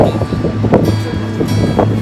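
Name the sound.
strong wind blowing into the microphone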